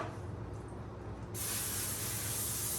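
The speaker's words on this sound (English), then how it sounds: "So I'm going to spray it" Cooking spray hisses onto a disposable baking pan for a breakfast casserole, a steady close aerosol burst starting about halfway through and holding loud to the end, with no talk.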